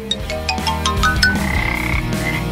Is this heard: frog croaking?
yes